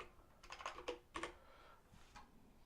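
Quiet, quick keystroke clicks from an ErgoDox split keyboard with an alternative layout, coming in short irregular bursts against a soft, hissy room background.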